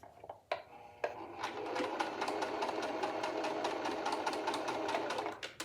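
Domestic sewing machine stitching pleats into a skirt, starting with a few short bursts before settling into a fast, continuous mechanical whir with rapid needle ticks, close up.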